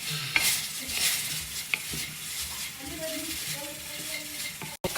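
Cooked onions being stirred in a pan, a soft continuous sizzle with scraping strokes of the spoon, close and steady, with faint background noise.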